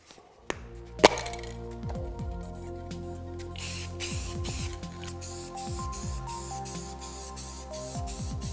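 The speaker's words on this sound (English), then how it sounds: "for the paint on this cabinet, I'm gonna go with this Rust-Oleum rattle can from Home Depot." A Rust-Oleum satin rattle can sprays paint onto an arcade cabinet: a sharp click or two, then a long hissing spray burst, with short rattling and clinking in between, close to the microphone.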